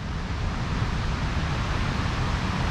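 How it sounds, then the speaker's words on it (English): The Tobacco River pouring over the dam weir during the Wixom Lake flood: a continuous, broad rushing roar heard from a distance, steady and even, with no voices. "You can actually start to hear the roar of the Tobacco River going over the top of the dam"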